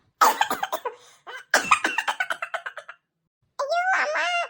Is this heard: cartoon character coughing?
yes